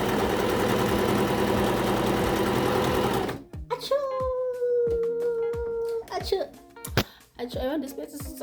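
A new sewing machine running in a steady, dense mechanical whir for about three seconds, then stopping abruptly, followed by a howling dog, clatter and voices talking.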